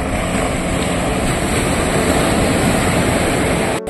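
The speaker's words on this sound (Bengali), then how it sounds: "তারপরে বোট গুলো যাচ্ছে, দেখো এখানে বোট গুলো, স্পিড বোট আছে।" Speedboats on the sea at Nagoa Beach in Diu give a loud, steady engine and water roar mixed with wind, continuous and close, with no voices.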